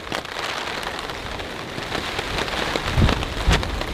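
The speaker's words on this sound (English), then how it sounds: "Super, super windy. It's raining again. Huge drops." Heavy rain with strong gusting wind during a winter storm at a campsite: a dense, constant hiss of large drops hitting surfaces, with a few louder close impacts near the end.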